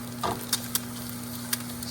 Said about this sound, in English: I got my eggs cooking up nicely right here